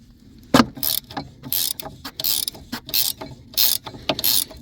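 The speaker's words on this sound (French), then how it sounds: "Donc là maintenant j'ai plus qu'à serrer et c'est fini." A ratchet tightens the stabilizer bar link nuts in a run of quick, sharp clicking bursts, close and distinct, with short pauses between each stroke.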